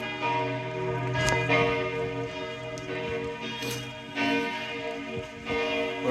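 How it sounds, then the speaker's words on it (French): Church bells ring out in Zurich, a steady resonant peal with repeated strikes sustaining rich overlapping tones outdoors. "Duel d'église, duel de cloche."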